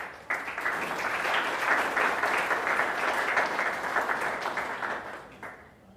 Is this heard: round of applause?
yes